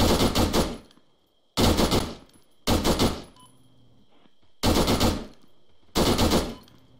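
Loud, close bursts of automatic gunfire from an ARMA video game firefight come in five separate volleys, each about half a second to a second long, with short quiet gaps between them.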